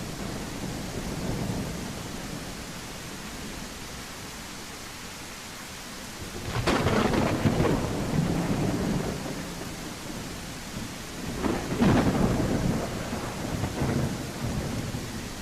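Thunderstorm in a dinosaur survival video game: steady rain hiss with two loud rolling thunder rumbles, one mid-clip and one near the end, no voices.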